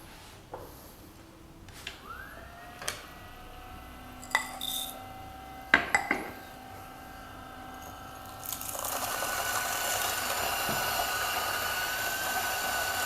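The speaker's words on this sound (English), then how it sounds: "we are going to see what's the noise of the grinder" A grinder running under test conditions, starting after a few metallic clinks and knocks and settling into a steady, loud, continuous whir with a fine high-pitched hiss that holds to the end.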